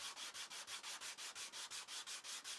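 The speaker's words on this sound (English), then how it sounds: "now we can use that just to give it a quick sand" A wooden straight edge sanded by hand with a piece of sandpaper along the grain: quick, even back-and-forth rasping strokes, about five per second, close and faint with no voices.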